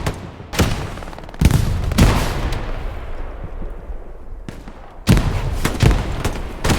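Rocket launches and explosions in an 18-versus-18 online shooter match, heavy booming blasts in bursts with rumbling decay between them, loud and near, several impacts over the stretch.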